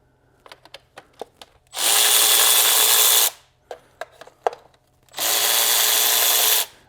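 A Milwaukee cordless ratchet undoes a nut in two loud, sustained motor whirs. Between the bursts come sharp clicks and taps from the ratchet and the nut being handled, all heard close up without speech.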